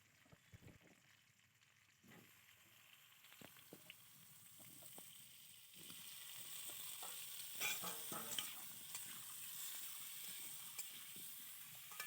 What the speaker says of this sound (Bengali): এবারে আলুগুলো ভেজে নেবো। মাংসের আলুগুলো খুব ভালো করে ভেজে নিতে হবে।